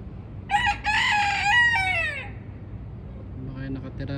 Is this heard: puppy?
no